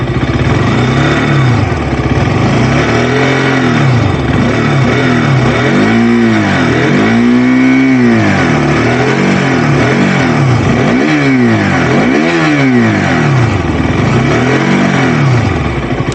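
A 2022 KTM RC 200 motorcycle engine revved repeatedly up close, the pitch climbing and falling in several throttle blips between 3000 and 4000 rpm over a steady loud idle.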